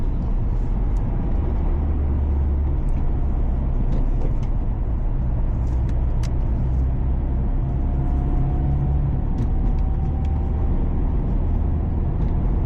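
A 1991 Toyota Hilux on the move, its steady low engine drone and road rumble filling the cabin continuously, with faint rattles and a brief rising whine partway through, and no talking.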